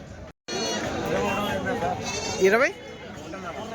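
A male goat bleats briefly, rising and wavering, amid steady crowd chatter and background voices at a busy weekly outdoor goat market in Kadiri.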